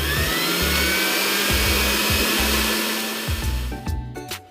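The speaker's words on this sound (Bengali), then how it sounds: "ধনেপাতা আর পুদিনা পাতা ভালো করে ধুয়ে মিক্সিতে পেস্ট করে নিচ্ছি" A mixer grinder turns coriander and mint leaves, green chilli and lemon juice into paste, giving a loud, continuous close whine that slows near the end and then rattles as it stops.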